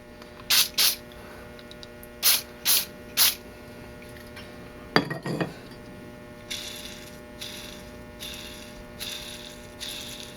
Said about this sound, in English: Put some Andes Super Oil. Stuff's really good. It's not like WD-40, WD-40 penetrating oil. It's actually a lubricant